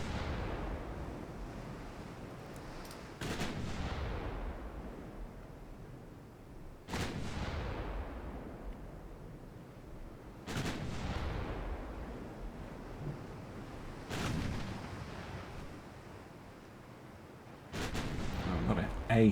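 Heavy artillery guns fire high explosive shells in a war video game, five booming blasts spaced a few seconds apart, each rolling off into a long fading rumble over steady background noise.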